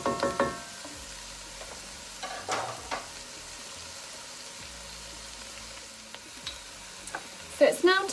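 Garlic for pumpkin soup cooks in a pan with a low, steady sizzle, broken by occasional scrapes and knocks of a utensil, a cluster of clatter at the start and near the end.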